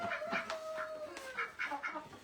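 Hens clucking in short, repeated bursts, fairly close, with a thin high tone trailing under the first second; no talking.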